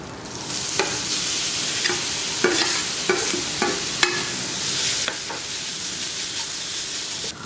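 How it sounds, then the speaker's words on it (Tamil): Grated beetroot sautéed with ginger garlic paste in a kadai makes a loud, continuous sizzle, broken every second or so by sharp scrapes and knocks of stirring. "இஞ்சி பூண்டு பேஸ்ட் போட்டு லைட்டாக வதக்கிட்டு துருவி வச்சிருக்கிற பீட்ரூட்டை சேர்த்துடலாம்"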